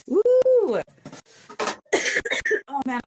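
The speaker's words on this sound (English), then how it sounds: "I'm still coughing this week too." A short cough breaks through lively talk, with several voices speaking and reacting around it.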